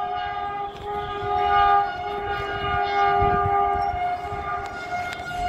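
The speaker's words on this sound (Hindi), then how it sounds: "वंदे एक्सप्रेस, जो कि यहाँ से जाएगी कोलकाता" A Vande Express train bound for Kolkata rolls past, its steady rumble and rail noise swelling and easing over several seconds while a long tonal horn-like drone holds throughout, with no one speaking.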